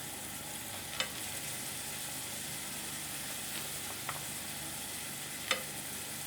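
Frozen tomatoes go into a pan for borscht, giving a faint, steady low sizzle with a few sharp clicks from a spoon or pan.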